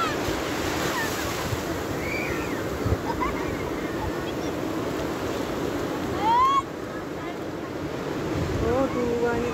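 Sea waves wash continuously onto Ngerumput beach in Gunung Kidul, Yogyakarta, a broad steady surf roar with wind buffeting the microphone and faint voices and high calls scattered over it.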